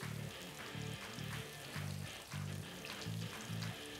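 Prawns fry in moderately hot oil, a faint sizzling and crackling with soft pulsing bursts recurring every half second or so, with no voices.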